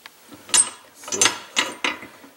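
Heavy steel swivel on the chain of an antique S. Newhouse No. 5 trap from around 1900, turned by hand: four separate short metallic clicking rattles spaced about half a second apart, close and fairly loud.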